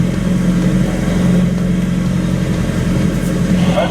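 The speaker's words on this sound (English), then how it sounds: "My engine is only in standby" A sailboat's engine idles in standby, a loud, even low rumble that holds steady throughout, with faint wind and water noise beneath and no voices.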